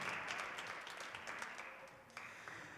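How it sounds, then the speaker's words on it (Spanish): Even, continuous clapping from the audience at a high school award ceremony, moderately loud and steady across the whole stretch. "un fuerte aplauso para Antonia y Cecilia"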